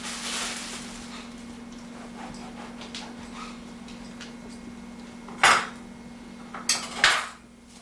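Slices of buttered garlic bread set down on a metal cookie sheet, heard as two or three sharp metallic clinks and rattles late in an otherwise quiet kitchen with a steady low hum.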